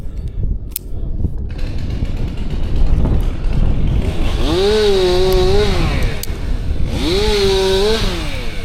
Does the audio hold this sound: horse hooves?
no